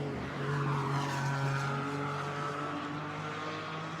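A Porsche GT4 race car accelerates out of Pouhon at Spa, its engine holding a loud, sustained droning whine with rising harmonics, steady throughout and heard alone.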